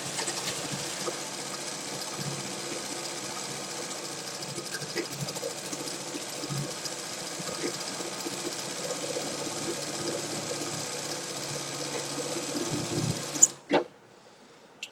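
A sewing machine runs steadily, stitching the folded hem of a readymade dress as one continuous whir for about thirteen seconds, then stops, leaving only a few faint handling knocks.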